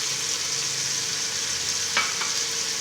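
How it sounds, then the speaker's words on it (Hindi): Red chili powder, turmeric and other spices sizzle and fry steadily in hot oil for kadhi, a constant close crackle with a brief stir or scrape near the end. "मसालों को अच्छी तरह पका लेंगे"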